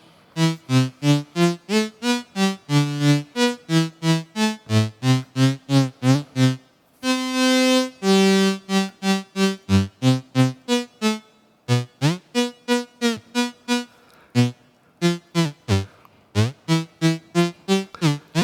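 A modular synthesizer plays a rapid pulsing sequence of tones, a probability gate triggering random slew so some glide smoothly between pitches, loud and without any voices.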